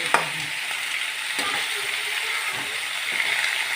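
Vegetable paste frying in a pan, with a loud, steady sizzle throughout and a few scattered knocks and scrapes of a stirring utensil.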